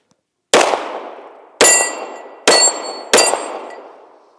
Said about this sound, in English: So we're gonna do some shooting with this and